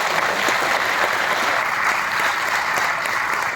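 Steady applause from a seminar audience at a Rotary Foundation event in Guntur, a dense, even clapping that holds at one level throughout with no gaps and no talk over it.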